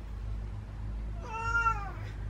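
A single cat meow, short and clear, rising then falling over a quiet low hum.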